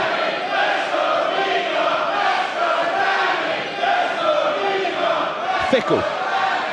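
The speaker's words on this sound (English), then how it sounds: "I think it was a different half of the audience chanting for one and then the other." Pro wrestling crowd at a Dani Luna vs Mina Shirakawa match, a sustained roar of chanting voices in waves, with a sharp thud near the end, loud and continuous throughout.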